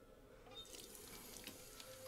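Tap water running into a sink in the video game As Dusk Falls, a steady, soft hiss of flowing water, quiet and continuous with no voices over it.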